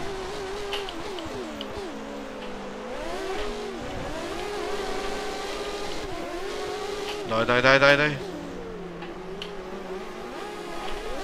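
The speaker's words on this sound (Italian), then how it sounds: "Tutti i motori che vanno al massimo." Formula 1 cars at full throttle in the F1 2013 video game whine and rev with rising and falling engine pitch through gear changes, with a louder surge of several cars near the end, and someone speaks over them.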